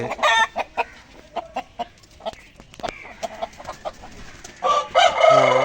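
A Shamo cock crows at a poultry farm in Dhaka, with a quick run of sharp clucks and calls before a loud, drawn-out crow near the end, close and clear.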